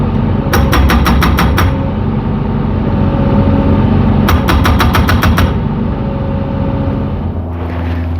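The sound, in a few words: hydraulic breaker hammer pounding a post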